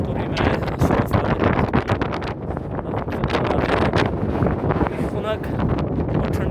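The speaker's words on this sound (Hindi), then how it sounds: "खुनक और ठंडी हवा चल रही है।" Cold wind gusting at Babusar Top mountain pass, buffeting the microphone in loud, continuous roaring bursts that rise and fall for several seconds.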